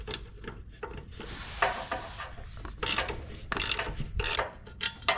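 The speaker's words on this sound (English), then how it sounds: "I'm going to go get my 12mm ratchet and see if we can get it with that" A 12mm ratchet clicks in short irregular bursts as it works a rusty bolt on a 2005 Nissan Titan, with close mechanical ratcheting and scraping and no talk.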